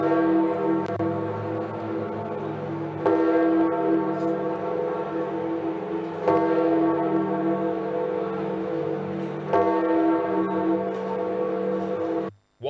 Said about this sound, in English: as choirs sang and church bells tolled across